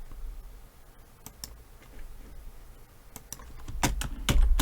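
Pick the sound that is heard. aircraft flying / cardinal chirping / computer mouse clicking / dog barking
computer mouse clicking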